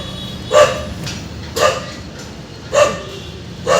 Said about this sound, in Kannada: ಮೈಕ್ ಟೆಸ್ಟ್ ಮಾಡೋಕ್ಕೆ ನಾಯಿನೂ ನಮ್ಮ ಜೊತೆ ಇದೆ